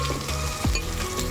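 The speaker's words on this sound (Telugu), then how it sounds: "ఈ అల్లం వెల్లుల్లి పేస్ట్ పచ్చి వాసన పోయే వరకు మనం దీన్ని ఫ్రై చేసుకోవాలి" Ginger garlic paste fries in a pan for a home-made mutton biryani, giving a loud, steady, close sizzle with a brief stirring scrape partway through.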